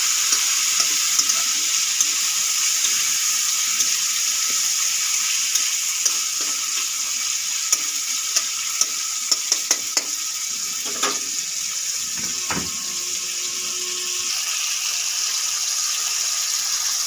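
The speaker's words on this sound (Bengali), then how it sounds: "চিকেন কিমাটা আমার এখানে ফ্রাই হয়ে গেছে।" Chicken keema seasoned with salt and turmeric fries in a pan with a steady, bright sizzling hiss, punctuated by light clicks and scrapes of stirring.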